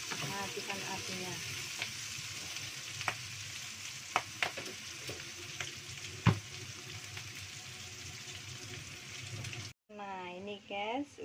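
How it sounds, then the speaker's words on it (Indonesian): Anchovy stir-fry with shallots, garlic and chili sizzles steadily in a pan while being stirred, with scattered clicks of a utensil against the pan and a voice speaking briefly near the end. "Nah, diaduk-aduk sampai merata."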